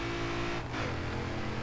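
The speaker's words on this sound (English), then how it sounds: "Get the car slowed down for this corner." A car engine in the racing game Forza Horizon 3, during a rainforest sprint, drones steadily and close up as the driver eases off for a corner, with a brief dip in tone partway through.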